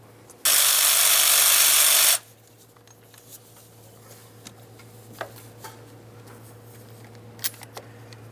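A power tool with a 5/8 spark plug socket spins out a spark plug on a 2006-2010 Ford Explorer, a loud whirring burst of about two seconds, followed by faint clicks and small metallic handling sounds over a low hum.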